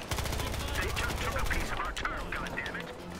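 Rapid, sustained SMG gunfire in the video game Battlefield Hardline, a dense, loud automatic burst that continues nearly the whole time, with a voice talking over the shooting.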